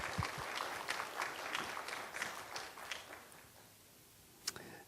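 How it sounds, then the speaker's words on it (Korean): A church congregation applauds during a Sunday worship service, a fairly faint, rhythmic clapping that fades out over a few seconds, followed by a single sharp knock near the end. "우리 위로와 격려의 박수 한번 쳐드릴까요?"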